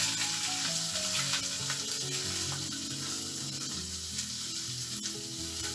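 Stuffed farmhouse chicken breast with mushroom and truffle frying in a pan, a steady loud sizzle lasting throughout with faint clinks, close and without speech.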